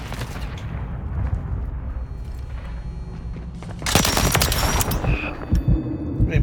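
Gunfire in Modern Warfare 3, a dense rumbling barrage of rapid automatic shots and booms that swells loud partway through, then sharper bursts follow.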